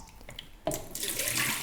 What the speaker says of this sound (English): Tip the water out